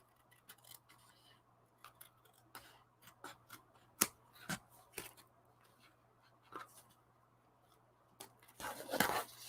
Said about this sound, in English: So let me just trim this up.